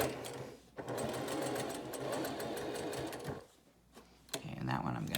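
A sewing machine runs steadily while stitching a fabric bowl cozy, with a rapid, even whirr that pauses briefly twice and then starts again.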